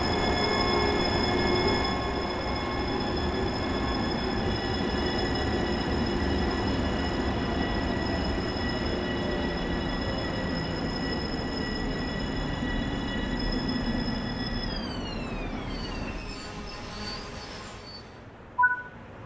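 Long Island Rail Road M7 electric train in Train Sim World 3 rumbling and rolling along the rails, a steady loud drone with motor whine that slowly drops in pitch as it brakes, ending with a brief clunk.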